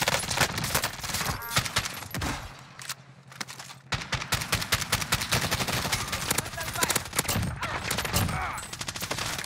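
Gunfire in Warzone: dense automatic bursts, loud and close, with a short lull early on before sustained rapid volleys resume. A voice speaks briefly amid the shooting.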